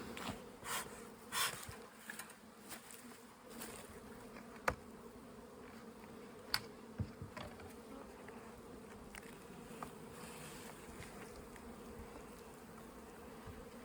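Honey bees from small salvaged colonies, newly dropped onto newspaper in a box for a merger, buzz in a steady, soft, low hum with a few sharp clicks and knocks scattered through it.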